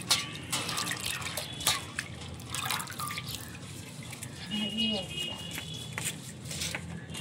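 Leaves and green chillies being washed in water, with soft intermittent splashes and drips near at hand while a voice talks faintly in the background.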